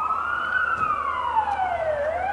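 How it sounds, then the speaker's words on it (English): An ambulance siren wails along a nearby road in a smooth, rising and falling sweep, loud and clear over faint traffic. "Is that an ambulance?"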